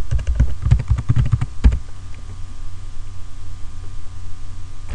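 Fast typing on a computer keyboard, entering a password at a terminal prompt for installing GCC: a short burst of close, soft key clicks for under two seconds, followed by steady low room hum with no talking.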